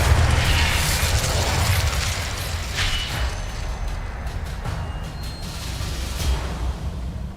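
The Incendio fire spell in Hogwarts Legacy bursts out in a loud whooshing blast with crackling flame, followed by several smaller pops and flares over a low rumble.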